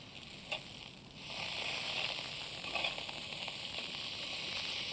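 Steady sizzling hiss of fillet steaks frying in a hot pan, rising louder after a second with a few crackling pops.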